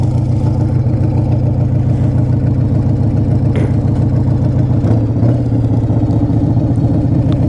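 A carbureted 1994 Harley-Davidson Fat Boy engine runs steadily with a loud, continuous low rumble and even pulsing throughout, with no talk.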